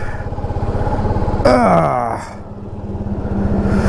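A Suzuki V-Strom SX motorcycle engine runs at a close, pulsing idle, then revs up in a rising whine and drops back to a steady low throb as it pulls away.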